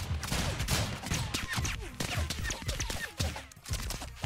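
Dense, continuous volleys of gunshots fill a chaotic round of the video game ROUNDS, with overlapping cracks and bullet effects rattling steadily throughout at a fairly loud level.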